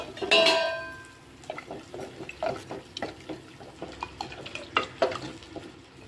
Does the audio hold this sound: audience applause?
no